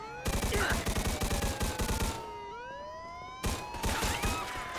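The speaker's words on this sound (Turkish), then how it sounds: "Kadını vurdum yanlışlıkla." Rapid bursts of gunfire rattle through a Mafia 2 shootout with police, with rhythmic repeated shots for about two seconds, a lull filled by a wailing siren, then another burst near the end.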